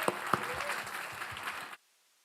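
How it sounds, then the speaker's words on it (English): Audience applause at a student tech meet-up in Chennai, a few sharp claps up front blending into steady clapping that cuts off abruptly into silence. "Can we have a round of applause for them?"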